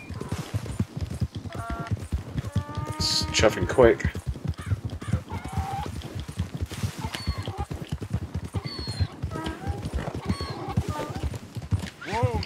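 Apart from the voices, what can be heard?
horse galloping in a video game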